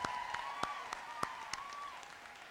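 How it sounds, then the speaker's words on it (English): Applause for a graduating class of 2017 at a school graduation ceremony: a steady, fairly faint wash of clapping from an audience, with a few sharper individual claps standing out and a thin tone running underneath. "Let's give a round of applause for the graduating class of 2017."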